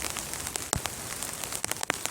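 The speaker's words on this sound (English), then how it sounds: "So, as you can probably hear, we've got a little bit of rain. April showers coming down on us." Steady light rain patters on an outdoor tarp, an even hiss broken by a few sharper, louder drops landing close by, with no voices.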